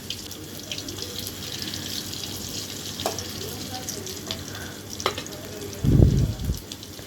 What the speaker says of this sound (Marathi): पहिलं तेल टाकून घ्यायचं तेल जरासं तापून द्यायचं आणि लसूण टाकायची लसूणीनं जरा अशी करपून द्यायची